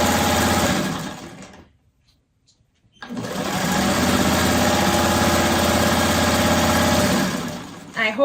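A sewing machine stitches freeform fabric letters in two steady motor runs, close and loud, with a short silent pause between them where the work is repositioned.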